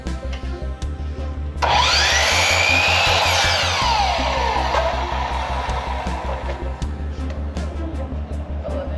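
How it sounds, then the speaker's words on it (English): A power drill whines steadily as it bores pilot holes into wooden furring strips for a camper van wall, with a loud pulsing hum running under it throughout and a few sharp clicks. "it was time to pre-drill holes in them"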